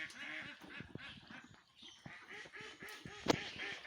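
A flock of egg-laying ducks quacking nearby, a dense run of repeated honking quacks in irregular bursts from several birds, fairly close and alone without speech.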